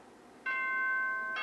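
An announcement chime from the video game Danganronpa 2 rings out as a bright, sustained electronic bell tone, steady for about a second, with a fresh strike at the very end and no voices over it.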